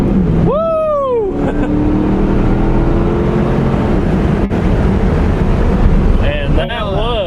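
A stock Z28 Camaro does a tire-spinning burnout, its engine roaring steadily and loudly under a whooping voice, with a rising squeal sweeping upward near the start and again at the end.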